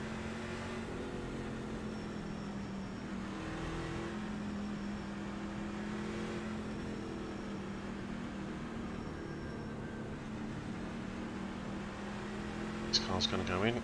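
Race trucks roaring around Auto Club Speedway in a NASCAR Truck Series event, a steady dense engine drone from the pack, with a voice commentating over it.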